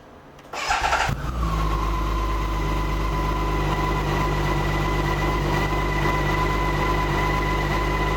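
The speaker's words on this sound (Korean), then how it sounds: "6기통의 부드러운 머플러 사운드 확인할 수가 있겠는데요" The six-cylinder engine of a BMW K1600GTL motorcycle cranks briefly with a starter whine, catches, and settles into a smooth, steady, low idle that stays loud and close for several seconds, with no voices.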